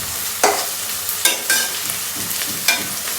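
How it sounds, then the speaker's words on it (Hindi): Garlic ginger paste fries in a pan for a Pakistani summer vegetable dish, a steady close sizzle broken by several sharp scraping stirs of a spoon against the pan, with no talking. "फिर हमने इसके अंदर लहसुन अदरक का पेस्ट डाल देना है।"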